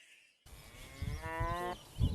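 A cow moos in one long, loud, harmonic bellow lasting over a second, close to the microphone, with rough noise at the start and end.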